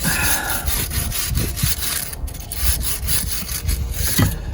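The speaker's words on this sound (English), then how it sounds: "take the tire brush, and we want to brush off this rotor where the wheel's going to sit" A wire tire brush scrubs back and forth across the dirty rear brake rotor of a 1999 BMW 328i E46, a close, loud, rhythmic rasping with short pauses between strokes.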